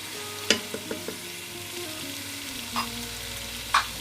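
Chicken and onion fry in a pot with a soft, steady sizzle, punctuated by a few sharp clinks and scrapes of a utensil against the pot, close by and without speech.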